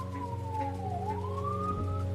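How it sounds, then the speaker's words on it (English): Ambulance siren wailing as it passes, a single rising-and-falling tone over a steady low hum of traffic, fairly close and clear with no talking. "If an ambulance goes by."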